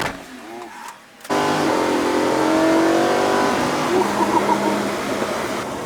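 A car accelerates smoothly with light throttle, its engine a steady close rising drone inside the cabin after a brief quieter moment at the start.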